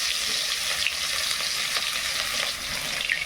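Garlic dropped into hot oil with black cumin seeds and dried chilli sizzles and crackles steadily, a brief, even hiss with no voices.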